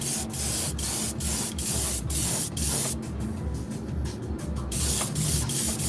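An airbrush sprays paint onto a fishing lure in steady, close hissing bursts that stop and start in quick repeated pulses, with a longer continuous spray in the middle and no talking.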